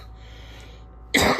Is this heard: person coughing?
yes